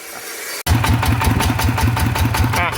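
A tuned Kubota ET engine upgraded to 155 starts after a brief silence and runs with a loud, close, rapid chugging thump at idle, rhythmic and steady with no voices.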